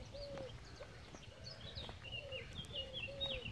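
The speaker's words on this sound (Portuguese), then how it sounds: "ouvindo os barulhos do passarinho, cantando" Small birds chirp and whistle softly in the distance over a steady outdoor hiss beside a river in Locarno, Switzerland, short thin calls scattered throughout, with no one speaking.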